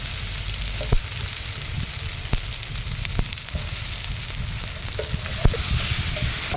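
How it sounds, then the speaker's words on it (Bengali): Potatoes fry in a pan with a spice masala, giving a steady close sizzle broken by occasional stirring knocks and scrapes, with no talking. "এবার আলুগুলো দিয়ে দিচ্ছি, মশলা ভাজা হয়ে গেছে"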